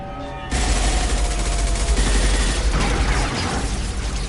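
Sustained heavy gunfire in the sci-fi shooter Mass Effect 2 erupts after a brief lull and continues as a dense, loud, continuous barrage of rapid shots and booms.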